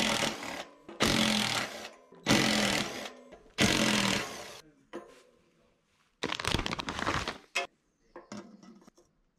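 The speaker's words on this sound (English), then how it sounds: "I'm using the impact driver just because it's a lot less hassle taking them out" An impact driver backs out T25 Torx brake disc screws on an Orange Five mountain bike, giving four loud, close whirring bursts of about a second each, followed by two shorter, rougher bursts.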